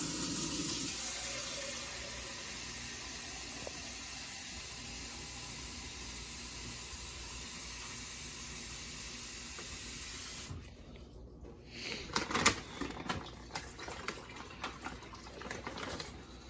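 Steady rushing of tap water filling a container runs unbroken for about ten seconds, then stops, followed by scattered clunks and handling noises.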